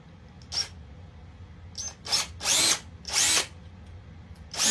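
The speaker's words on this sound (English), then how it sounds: "You drill a couple of holes there" A power drill drilling holes in wood, five short whining bursts of varying length, the middle ones longer and louder, close by with quiet pauses between.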